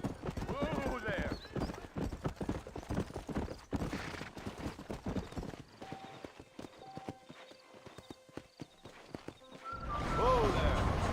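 Horse hooves clip-clopping in a GTA video game, a close, steady walking rhythm with a whinny, while voices talk over parts of it.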